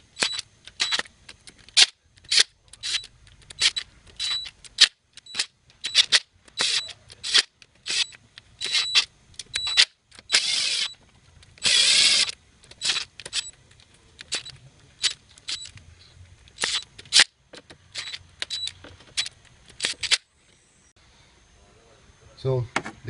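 Sharp, close clicks ring out one after another at an uneven pace from a preset torque wrench tightening camshaft cap bolts on a VW Audi V6 engine, with short pauses and one longer grinding stretch between them.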